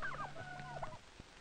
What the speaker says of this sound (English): This is the father chicken, called a gobbler, and he's proud of his brightly colored feathers.